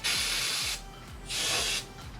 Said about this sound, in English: And a little bit of brake cleaner before we put on our new grease.